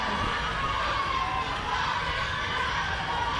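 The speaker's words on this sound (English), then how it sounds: "we can hear a lot of crowd cheering" Spectators cheer and shout at a school annual sports meet during a house race event, a continuous, fairly distant roar of crowd voices with children's shouts blended in.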